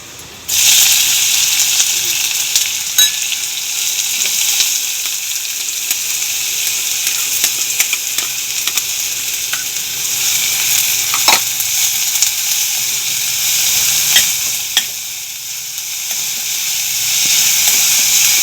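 Onion frying in a pan for a thin fenugreek leaf bhaji, a steady broad sizzle and hiss held throughout, with occasional scrapes and clicks of stirring close by and no talk.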